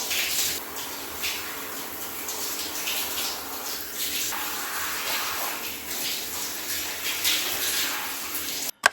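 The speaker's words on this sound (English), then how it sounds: "so I force myself to shower first" Steady hiss of a shower running in a home bathroom, continuous broadband spray holding for several seconds at a fairly even level with no talk, cutting off abruptly at the end.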